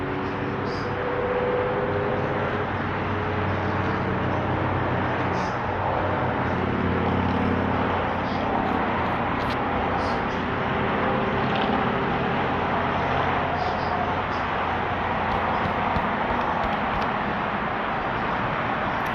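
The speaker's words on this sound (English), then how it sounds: "Then all of a sudden all this traffic noise starts happening." Steady road traffic noise, with cars, motorcycles and trucks including muscle cars, runs as a constant rumble through the whole stretch with no clear gaps between vehicles.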